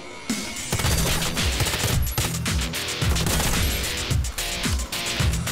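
Rapid automatic submachine gun fire in Warface, long, dense bursts at a very high rate of fire, loud and close, with a few brief pauses between volleys.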